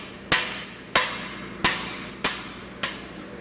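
Hammer strikes on a bent disc mower part being beaten flat after the mower ran into a culvert, five sharp metallic blows in a steady rhythm, close and loud, each ringing briefly before the next.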